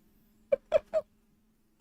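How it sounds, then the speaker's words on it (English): A chicken in Diablo 3 gives three quick, close, distinct clucks in a row over a low steady hum, followed by another cluck starting at the end. "Why is a chicken in my room?"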